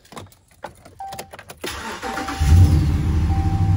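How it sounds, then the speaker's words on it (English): A 2016 RAM 1500 pickup with a Hemi V8 is cranked and fires up after a few faint clicks, settling into a loud, steady idle close by in a garage; a slight exhaust manifold leak is present. "And then we can go ahead and turn on the truck."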